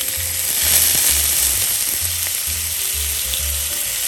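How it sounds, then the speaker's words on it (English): A lobster tail sears meat side down in butter in a hot pan, giving a loud, steady close-up sizzle with faint crackles and no voices. "And we're just going to sear it."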